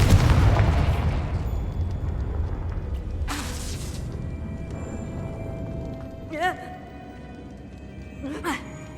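Confringo, a fiery explosive spell in the video game Hogwarts Legacy, goes off with a heavy blast that decays over several seconds. Sharp bursts and short whistling zaps follow, and two smaller pops land near the end.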